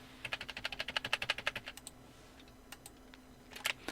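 Computer keyboard shortcut keys pressed while working in Photoshop: a quick run of about fifteen close, crisp clicks in steady rhythm, then a pause and a few scattered clicks and a final short burst, with no talk.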